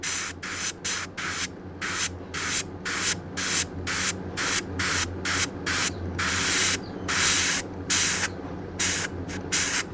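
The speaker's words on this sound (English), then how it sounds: "just put it behind where you're spraying to avoid overspray" An airbrush sprays paint onto a handmade garfish swimbait lure in short, rapid repeated bursts of hiss, close and fairly loud, with no talking.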